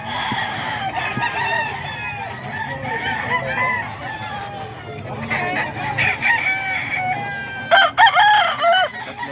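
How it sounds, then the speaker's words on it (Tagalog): A large gold stag rooster crows repeatedly and close by, loud harsh calls overlapping one another with faint background clucks throughout. "Malaking manok to ah."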